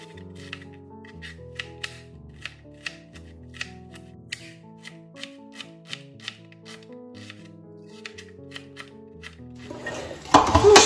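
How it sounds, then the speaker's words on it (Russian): A knife chops an onion into small thin slices on a board in a home kitchen, giving sharp, evenly spaced taps about twice a second under soft background music, ending in a louder rustle. "Лук порежу такими, знаете, небольшими вот такими"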